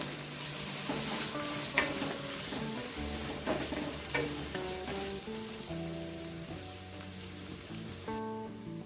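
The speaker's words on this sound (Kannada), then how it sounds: "ಅದನ್ನ ಹಾಕ್ಕೊಳ್ತಾ ಇದ್ದೀವಿ ಹಾಗೆ ಫ್ರೈ ಮಾಡ್ಕೊಳ್ಳೋಣ" Chopped onions and green chillies frying in a pan for egg dum biryani, a steady soft sizzle with occasional stirring scrapes, heard alone under faint background music.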